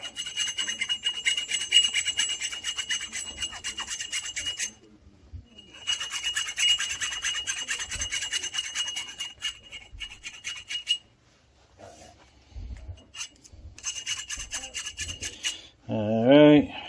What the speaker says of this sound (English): remember to deburr it